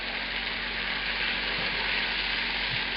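Button mushrooms fry in a pan over fairly high heat, giving a constant even sizzle and crackle with a low steady hum underneath.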